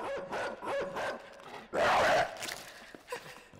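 Dog barking in the puzzle-platformer video game Inside, a run of sharp close barks and yelps followed by a louder snarling burst, with quieter growls after.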